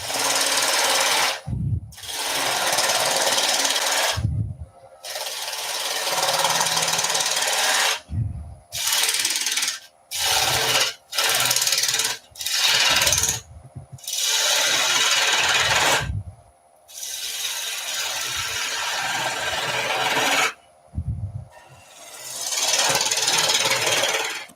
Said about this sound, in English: Spindle gouge again.